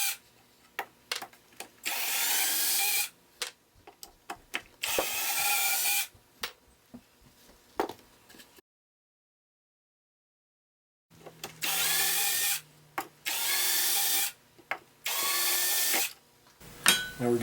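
A power drill backs screws out of a wooden shelf in repeated loud whirring bursts separated by short pauses and one longer silent gap, close up with no speech.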